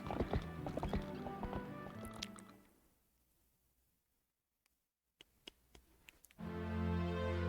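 Horse hooves clip-clop in a steady galloping rhythm while riding in the video game The Legend of Zelda: Twilight Princess HD, fading briefly to near silence before returning, with a possible whinny among game sounds.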